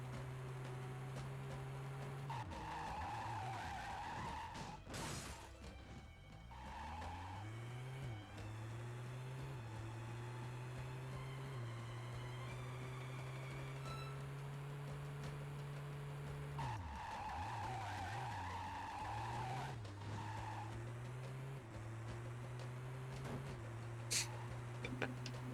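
Race car engine from the Driver 3 video game on original Xbox, revving at full speed with rising and falling pitch as gears shift, tires skidding and squealing through turns, loud and continuous throughout.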